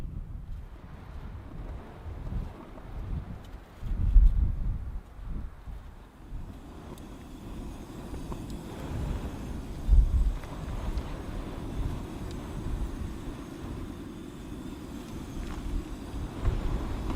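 Wind blowing outdoors on the outskirts of Taos, buffeting a microphone with low, rumbling gusts that rise and fall, with a couple of stronger thumps, steady and close throughout.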